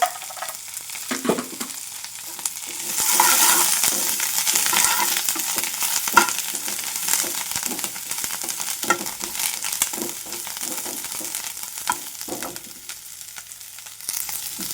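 Onion, green chilies and curry leaves fry in hot oil with a loud, continuous crackling sizzle that swells after a few seconds and carries on steadily, with occasional clicks of stirring and no voices.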